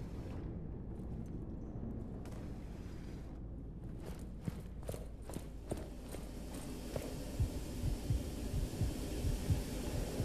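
A player character's heartbeat in Jurassic World Aftermath thumps in a low, rhythmic pulse that builds and grows louder toward the end, layered over a dark, humming game ambience with scattered clicks.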